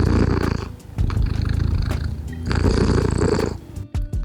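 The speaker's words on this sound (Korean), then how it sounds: "여러분들 고양이 그릉그릉 소리 들으면 심장병에 되게 좋대요" A cat purrs close up in a deep, rumbling pulse, loud and continuous with brief breaks between breaths, alone with no talking.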